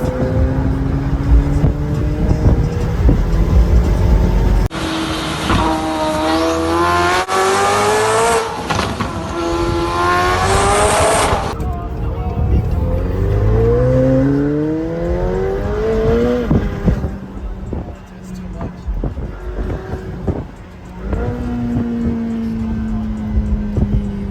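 A McLaren 720S Spider engine in track mode roars and revs hard, pitch climbing through gears with loud acceleration bursts and brief lifts, close and continuous.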